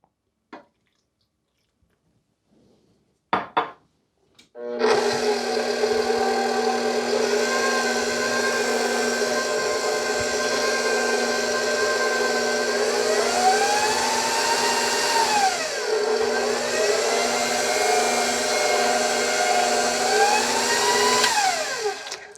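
An electric mixer churns cake batter as milk is worked in for a white chocolate mousse strawberry shortcake, starting after a few brief knocks and then running loud and steady for a long stretch, its pitch dipping and rising twice as the load shifts.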